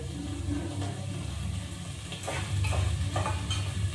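Food frying in a pan sizzles steadily while a spoon stirs and scrapes through it, the sizzle swelling louder toward the end, close and alone without talk.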